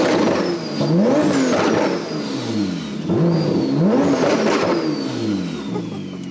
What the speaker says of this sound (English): And rev it